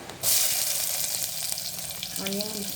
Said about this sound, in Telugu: ఇందులోనే ఆయిల్ ఉంది కదండి, దాంట్లోకి జీలకర్ర, ఆవాలు, తర్వాత ఆనియన్స్ అండి